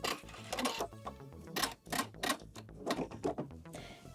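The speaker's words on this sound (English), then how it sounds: "I'm going to turn my fabric and sew off of the fabric to create a little right angle" A sewing machine stitches across blazer lining fabric in short uneven runs of rapid needle clatter, broken by brief pauses, close and moderately quiet.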